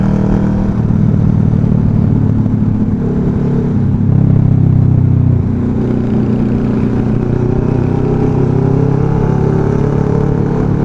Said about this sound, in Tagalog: parang ordinaryong motor lang